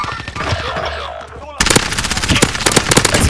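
Rapid automatic gunfire from a video game shooter kicks in abruptly after a quieter stretch and carries on in loud, fast bursts to the end, with excited voices talking before it.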